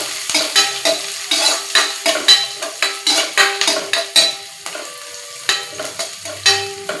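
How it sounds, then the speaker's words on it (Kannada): Onion and garlic frying in a pan for a red amaranth (harive) leaf stir-fry, with a steady sizzle broken by repeated close scrapes and clinks of a spatula stirring, and no talking. "ಉಳ್ಳಾಗಡ್ಡಿ ಮತ್ತು ಬೆಳ್ಳುಳ್ಳಿ ಎಲ್ಲ ಚಂದಂಗೆ ಫ್ರೈ ಆಗಬೇಕ್ರಿ"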